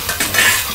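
Daikon radish stir-fried in a pan with shiitake mushrooms and oil: a short close burst of sizzling and scraping from utensils stirring, no talk.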